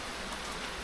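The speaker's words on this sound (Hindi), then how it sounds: "इतनी तेज बारिश हो रही है" Steady, dense hiss of heavy rain falling outdoors, a constant wash of noise with no pauses and no voices, moderately quiet overall.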